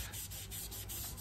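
A floor being mopped quickly indoors at home, heard as close, repeated swishing rub strokes in a quick, even rhythm, with no voices.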